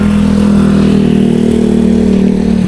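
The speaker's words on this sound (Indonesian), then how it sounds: "Sorry ya, ada suara motor." A motorcycle engine drones loudly and steadily close by throughout, a continuous low hum with no speech.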